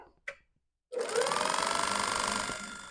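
A wood lathe for turning a bowl, set at about 1500 RPM, switches on after a short knock, then runs at a loud, steady, close motor whir with a fast rhythmic pulse.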